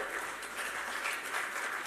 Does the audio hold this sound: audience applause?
yes